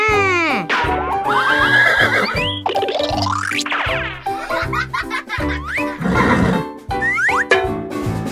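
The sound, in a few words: toy horse ride neighing at a kids' play center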